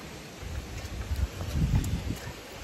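Gusty wind buffeting the microphone in the Sahyadri mountains near Vasota, a low rumbling roar that swells and fades over a couple of seconds.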